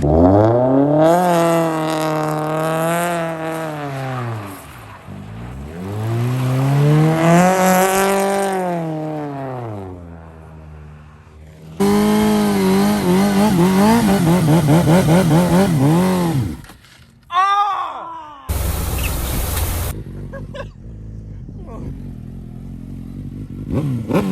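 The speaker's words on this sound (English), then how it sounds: "It's gonna rev it under the bridge." A 2004 Suzuki GSX-R 750 motorcycle fitted with a Yoshimura exhaust revs hard and loud up close, several long rising and falling throttle sweeps echoing as if under a bridge, ending in a sharp high burst.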